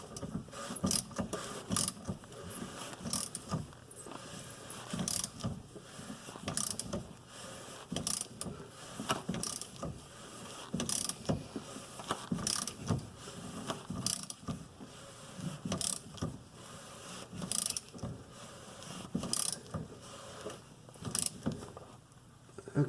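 A socket ratchet tightening the fuel filter on a 2014 Chevy Cruze diesel, rapid close clicking bursts repeated in short strokes with brief pauses between them.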